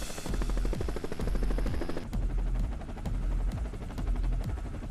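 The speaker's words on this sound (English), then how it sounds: "When the Huey thump is heard, people around the world know an iconic helicopter is about to make an appearance." A Huey helicopter in Flight Simulator X, a dense, rapid rotor thump beating steadily at close range with a constant engine roar underneath.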